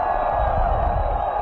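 A football stadium crowd at a college bowl game, Georgia Southern against Middle Tennessee State, sends up a steady loud roar and cheer that holds without a break through the whole moment.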